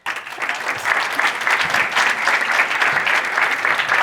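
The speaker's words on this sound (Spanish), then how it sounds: "Les pido un fuerte aplauso." Loud, dense applause from a university audience welcoming a speaker, Alfonso de los Ríos, at a lecture event, steady clapping throughout with no one talking.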